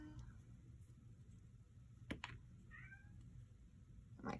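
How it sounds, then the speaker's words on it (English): A single cat meows in a quiet indoor room during a crafting session: one short, soft, rising meow in the middle, faint against low background hum and a couple of small clicks, with no talking. "My cat is meowing."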